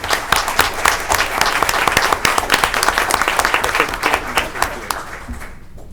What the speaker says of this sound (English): do hereby recognize and applaud Amanda Villasana.